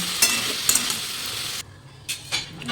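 Panch torkari, mixed vegetables, sizzle in a pan over the first part with a couple of metal clinks from stirring, then the frying drops away and a few more scrape and clink sounds follow.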